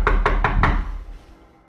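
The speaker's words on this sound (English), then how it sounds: "the banging occurs again on what sounds like a pane of glass" Four quick, evenly spaced bangs on a pane of glass, loud and close, followed by a fading ring and quiet room tone.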